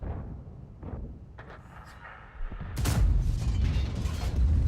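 An XM551 Sheridan tank fires a high-explosive shell in a video game: a heavy cannon shot booms, followed by a loud rumbling blast and lingering noise after a stretch of mechanical clanking.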